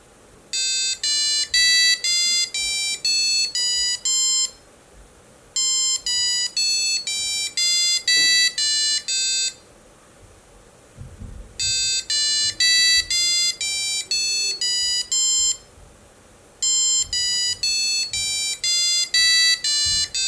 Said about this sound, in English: Let's upload the sketch and we'll hear the buzzer sing